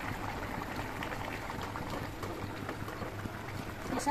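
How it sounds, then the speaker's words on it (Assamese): A pot of curry bubbles and simmers steadily at close range, a continuous low gurgling boil with no talking. "আঞ্জাখন উতলিবলৈ ধৰিছে"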